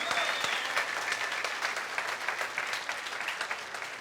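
Congregation at a Spanish-language church service applauding the Lord, a dense steady wash of many hands clapping throughout, fairly close and loud, with no speech over it.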